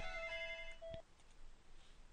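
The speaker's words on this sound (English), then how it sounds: "sorry about that, that's my phone." A mobile phone rings indoors with a bright electronic ringtone of sustained tones, cut off abruptly after about a second, then only quiet room noise remains.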